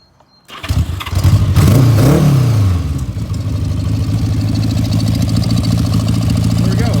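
A 1979 Honda Goldwing motorcycle engine cranks and catches with a rising roar, then settles into a loud, steady, throbbing idle close by.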